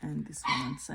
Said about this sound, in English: I apologise about the dogs in the background.